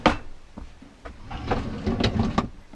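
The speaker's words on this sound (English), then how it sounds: "below the countertop we've got 3 drawers" A drawer under the countertop of a Promaster camper van, holding utensils, slid open and shut, giving a few soft wooden knocks and sliding rubs, close and fairly quiet with no talk.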